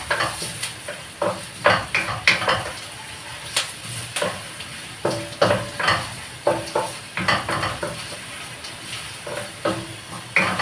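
Onion and garlic sautéing in a pan, with steady sizzling under repeated scraping and clinking of a utensil stirring against the pan, close and fairly loud throughout.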